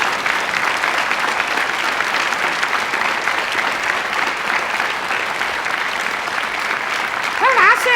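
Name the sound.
applause for the guest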